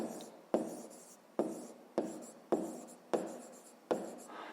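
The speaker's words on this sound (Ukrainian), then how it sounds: "Ну що ж, записуємо тоді відповідь, пишемо відповідь" Handwriting a maths answer produces six evenly spaced pen strokes on paper, each starting with a sharp scratch and fading, close and quiet.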